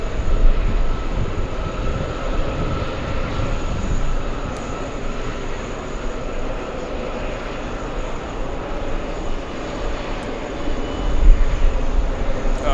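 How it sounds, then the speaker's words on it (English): A Delta Airlines jet, flight 273 from Lisbon, Portugal, comes in near JFK's TWA Hotel with a steady, fairly loud broadband engine roar that holds evenly throughout, with no voices. "We have Delta Airlines 273 flying in from Lisbon, Portugal"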